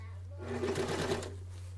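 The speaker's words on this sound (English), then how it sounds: "I am sewing." A Kwik Sew sewing machine running in a short burst of rapid stitching close by, rising and fading over a low steady hum.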